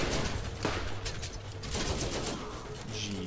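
Automatic turrets fire in the shooter game Borderlands, a dense mid-level clatter of rapid shots with a few sharper bursts, layered over game noise.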